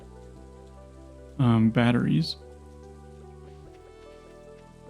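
Steady soft patter of rain in a video game, a low continuous wash heard faintly throughout, with a short burst of spoken voice cutting in midway.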